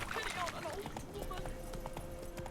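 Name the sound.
horse hooves galloping in The Witcher 3 video game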